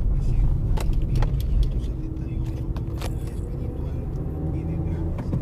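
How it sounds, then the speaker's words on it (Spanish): Heavy road traffic on Carretera Masaya in Managua: a steady roar of cars and buses passing close by, with someone speaking Spanish over the noise. "es un tráfico pesado."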